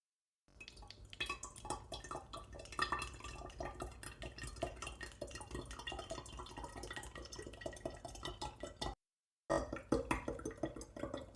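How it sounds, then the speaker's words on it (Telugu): Homemade coconut oil is poured into a large steel bowl, giving continuous soft dripping and trickling with light metallic clinks, close and quiet, with a brief gap near the end. "ఇక్కడ ఒక స్టీల్ గిన్నె తీసుకున్నాను, కొంచెం పెద్దదే. ఇప్పుడు దీన్ని, ఈ ఆయిల్ని దీంట్లో పోసేస్తాను."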